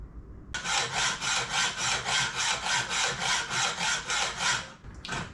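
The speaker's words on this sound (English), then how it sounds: "I'm just cutting part of the feet off this Austin Montego radiator" Someone hand-saws through the metal feet of an Austin Montego radiator in a brisk run of regular back-and-forth strokes, close and fairly loud, then a brief pause and a final short stroke.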